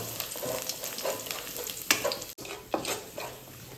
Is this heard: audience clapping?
no